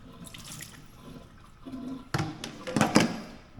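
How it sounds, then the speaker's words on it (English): Cold tap water runs into a sink, rising from a faint trickle to a louder splashing gush with uneven spurts, close by and without talk. "we'll just run them under cold water"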